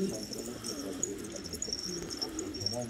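Pigeons coo softly in a loft in Hatay, Turkey, low repeated calls under a steady background murmur, fairly close and moderately loud.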